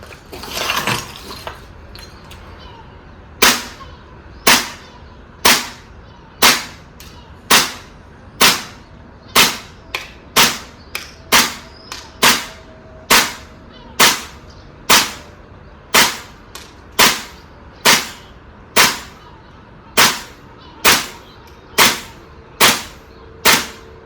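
A gas blowback airsoft rifle, a Noveske MWS, fires single shots during a 30-meter range test, about twenty sharp cracks at a regular, fairly quick pace, loud and close with no talking.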